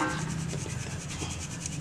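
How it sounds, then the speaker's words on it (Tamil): Gram flour is sifted through a sieve for Mysore pak, a soft, steady rubbing and scraping heard up close and quiet, with faint rhythmic pulses. "இந்த மாதிரி ஜல்லடையில் இந்த மாவெல்லாம் எடுத்து ஜலிச்சிக்கலாம்."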